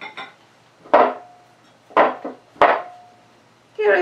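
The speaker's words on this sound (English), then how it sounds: "So let's chop cilantro." A knife chops fresh cilantro on a wooden board for Georgian chakapuli lamb stew: four crisp, close knocks at irregular intervals, each with a brief woody ring, with quiet between them.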